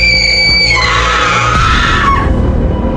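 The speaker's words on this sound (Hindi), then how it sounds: "महल के एक कोने में औरत के चीखने की आवाज सुनाई दी।" A woman's long, piercing cartoon scream echoes through a haunted palace, rising shrill and loud, then wavering and sliding down over about three seconds with a low rumbling undertone.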